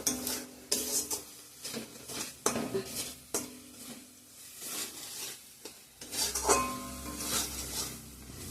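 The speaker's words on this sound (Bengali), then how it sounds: "চলো জলটা দিয়ে দিই এখন।" Mustard-paste masala fried in oil with coriander and cumin powders in a pan for a fish curry, heard as a close sizzle with repeated scraping and clinking of a spoon against the pan, no voices.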